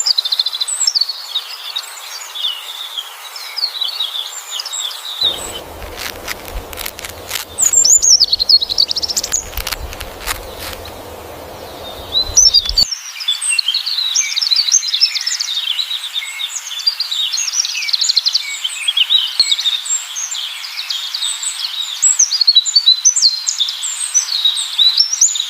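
Birds near their nests chirp and tweet in busy, overlapping high calls that run almost continuously, break off for a few seconds amid a low rumbling and clatter, then return, close and fairly loud.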